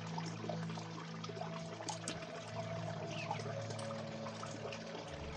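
A small waterfall on Hardscrabble Creek in Colorado makes a faint, steady rush and trickle of falling water that continues evenly throughout, with no voices.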